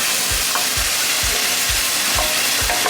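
Curry ingredients stir-fried in a pan: a steady sizzle of frying runs throughout, broken by regular, close scraping strokes of the spatula about twice a second.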